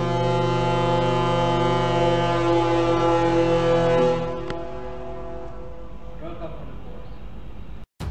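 A Pelni ro-ro passenger ship, KM Fudi, sounds a loud, deep horn blast that holds steady for about four seconds, then drops to a lower sustained drone with some background activity.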